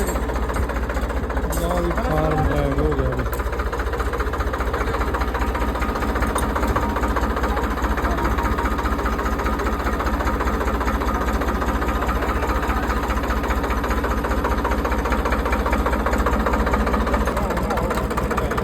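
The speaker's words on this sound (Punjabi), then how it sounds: "ਚੱਲ ਵੀ ਦੂਜੇ ਟਰੈਕਟਰ ਦੀ ਸਟਾਰਟਿੰਗ ਚੱਲਣ ਲੱਗੀ ਆ ਹੁਣ" A tractor engine idles after servicing, with a steady low chugging rumble throughout, close by, and a voice talks briefly over it near the start.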